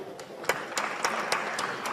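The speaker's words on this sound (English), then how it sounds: "A round of applause for Ashley." A small audience gives light, scattered applause for a speaker at a design event, with soft individual claps standing out above a low wash of clapping.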